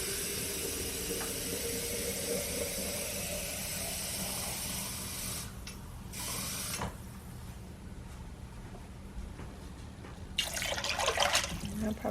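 Water pours from a tap into a jar for a pot of bean soup with chicken broth, a steady hissing trickle running throughout and rising into a louder gush near the end.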